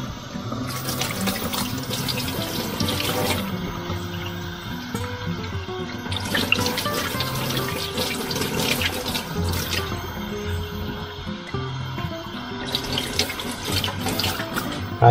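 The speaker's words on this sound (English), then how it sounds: "Rinse the anchovies." Tap water runs loudly and continuously into a kitchen sink as anchovies are rinsed for pasta puttanesca, with a steady rushing flow and occasional splashy surges.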